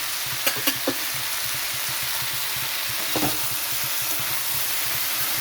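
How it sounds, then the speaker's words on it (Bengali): Bitter gourd fries in a pan with a steady, loud hissing sizzle throughout, punctuated by a few sharp clinks of a utensil early on and another near the middle, close up and with no talking. "এখানে আমি উচ্ছেটা দিয়ে দিলাম"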